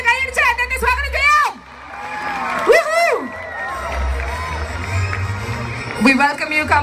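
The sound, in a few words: audience applauding and cheering for a guest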